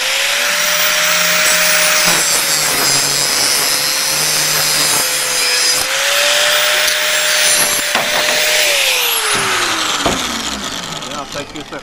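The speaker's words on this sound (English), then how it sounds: "I just happen to be having a grinder sitting right here" A power grinder whines steadily at high pitch, cutting through metal with a harsh, continuous screech, its pitch dipping as it spins down at the end.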